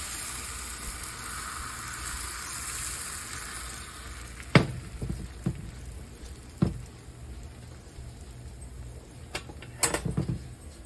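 Crepe batter for cinnamon roll crepes sizzling and bubbling in a hot pan, a steady fry hiss broken by a few clicks and scraping taps.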